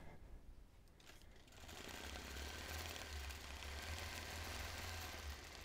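Sewing machine stitching during freehand quilting starts up after a brief quieter moment, then runs as a continuous, even mechanical hum with rapid needle chatter, close and steady.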